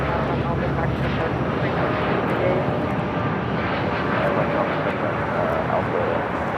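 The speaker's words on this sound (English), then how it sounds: "This is American Airlines 3141 taking off to Philly on the 787-8 Dreamliner" American Airlines Boeing 787-8 Dreamliner taking off from LAX for Philadelphia, its heavy, broad engine roar sustained and loud across the whole stretch, with a thin tonal whine drifting through the rumble.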